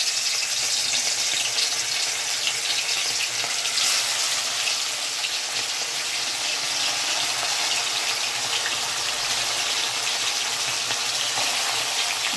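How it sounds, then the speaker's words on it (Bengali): Fish pieces, rubbed with salt and turmeric, frying in hot oil in a kadai, giving a steady, loud, broad sizzle and crackle that holds evenly throughout with no voices. "মাছটাকে আমি কড়াইতে দিচ্ছি।"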